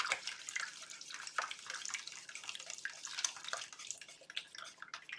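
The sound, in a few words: pouring low-fat milk into frittata egg mixture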